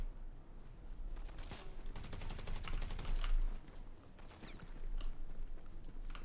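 Gunfire and rocket launcher blasts in the video game GTA 5, a continuous muffled barrage of rapid shots and booms at moderate distance, fairly faint throughout.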